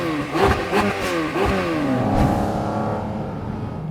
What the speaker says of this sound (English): The noise that this car makes is actually different from the 911 GT3.